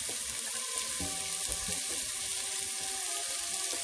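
Vegetables sautéing in a pan for Southern pepper steak, a continuous bright sizzling hiss that stays steady and close throughout, with faint low clatter underneath.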